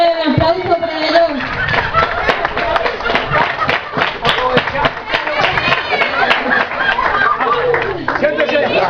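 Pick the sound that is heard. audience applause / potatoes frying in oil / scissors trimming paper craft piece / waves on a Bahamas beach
audience applause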